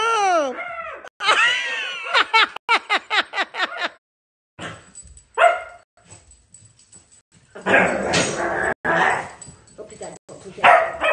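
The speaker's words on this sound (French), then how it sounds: "mais tu nous excites les chiens" Several dogs bark in quick bursts, sharp yips and howling yelps, up close and loud, followed by people talking and laughing over more scattered barks.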